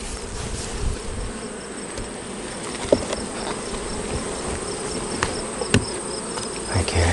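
Honeybees buzzing around a hive during a honey harvest, a dense steady drone of many insects close by, with a few faint knocks and taps scattered through.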